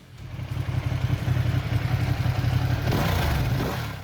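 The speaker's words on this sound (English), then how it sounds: "the unmistakable sound of an Italian V-twin" The Italian V-twin of a Ducati Panigale V2 motorcycle produces a deep, throbbing engine rumble that swells into a strong, sustained rev and then eases off slightly at the end.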